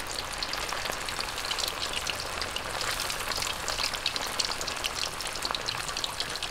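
Pork belly marinated in fish sauce fries in hot oil until golden and crispy, a dense, steady crackling sizzle that continues evenly from start to finish, with no talking.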